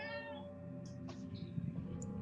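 A domestic cat meows near the microphone during the close of an online Q&A, its voiced call with clear harmonics standing out for about a second over a low background hum.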